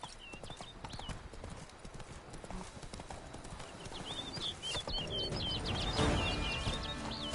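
Roach, Geralt's horse in The Witcher 3: Wild Hunt, galloping with rapid rhythmic hoofbeats, joined by an occasional whinny and faint birdsong in the background, building louder toward the end.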